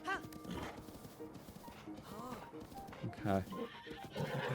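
A horse in Zelda: Breath of the Wild clip-clops with rhythmic hoofbeats and snorts close by, under someone talking briefly.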